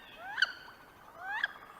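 A duck's odd, rising squeaky call, repeated twice about a second apart, clear and fairly close with quiet background.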